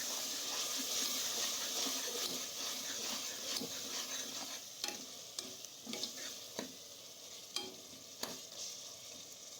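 Telangana-style chicken curry being stirred in a pan over a steady sizzle and hiss of frying, with sharp spoon scrapes and clacks against the pan growing more distinct toward the end.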